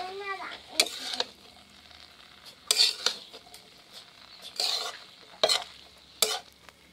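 Rice and egg being stirred and fried together for egg biryani in a pan: a soft steady sizzle under repeated sharp scrapes and clinks of a spoon against the pan, close and moderately loud.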